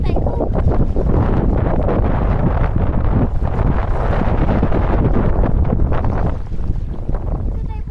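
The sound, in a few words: wind on lake while kayaking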